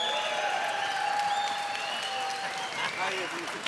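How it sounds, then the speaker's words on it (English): A crowd claps and applauds steadily throughout, with scattered cheers and whistles mixed into the sustained applause. "so please give them a round of applause."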